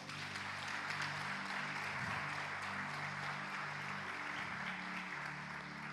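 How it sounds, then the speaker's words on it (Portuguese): A church congregation applauding in praise during a worship service, steady dense clapping filling the whole stretch at an even, sustained level without pause. "Você pode aplaudir o Senhor?"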